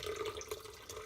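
Hot strained coffee pours into a blender, a brief continuous liquid splashing and trickling, close and moderately loud with no speech.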